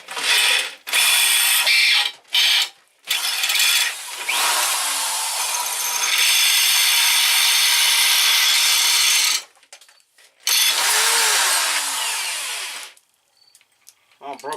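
A power drill with a 1/8 inch bit bores into hardened steel during alternator installation work on a Geo Tracker, running in loud, sustained whining stretches broken by brief stops and restarts.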